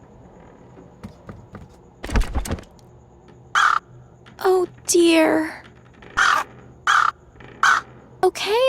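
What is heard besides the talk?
bird cawing at its nest in the Anna's Quest video game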